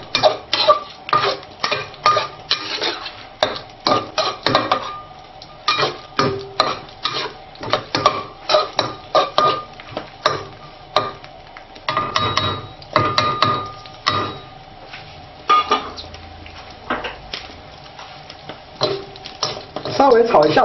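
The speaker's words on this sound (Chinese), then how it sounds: "稍微炒一下之后把它捞出来" Rabbit pieces stir-fried with chili peppers in a wok, a loud close sizzle punctuated by rapid, rhythmic scraping and clanking of a metal spatula against the wok in busy bursts.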